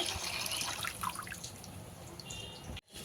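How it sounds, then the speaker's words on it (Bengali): Water is pumped by hand from a tubewell, splashing and trickling close by in a steady, modest flow with small drips, cut off abruptly near the end. "পানি উঠাই"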